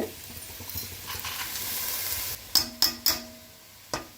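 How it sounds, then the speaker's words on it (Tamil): Rice and lentils are stir-fried in a hot pan, giving a steady sizzle. Near the end come several sharp metallic knocks of a utensil against the pan. "இப்போ அரிசி பருப்பு எல்லாத்தையும் போட்டு ஒரு பரட்டிடலாங்க."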